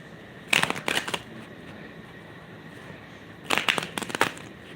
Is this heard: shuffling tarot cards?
yes